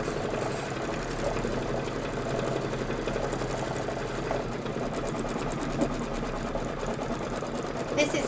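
A sewing machine stitches a Kimberbell Cup of Cheer bench pillow project at a steady, continuous mechanical hum, with someone talking over it.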